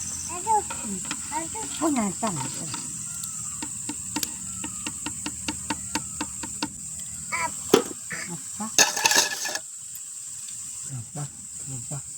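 Ponnanganni spinach vada batter frying in hot oil in a village kitchen, a steady bright hiss with irregular crackles and pops, some sharper than others, near and fairly quiet.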